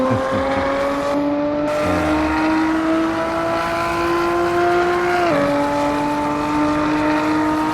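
A Maserati Levante S engine drones steadily through hot laps in the Assetto Corsa racing game, its pitch climbing in sustained runs and dropping sharply at two gear shifts, loud and continuous with no talk.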